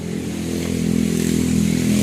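A motorcycle engine runs steadily nearby, a loud continuous drone with a low harmonic hum that builds slightly in intensity over two seconds, with no voices.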